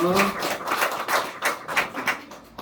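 Congregation applause during a Sunday afternoon church service, a quiet, steady patter of many hands clapping with a faint voice briefly under it at the start.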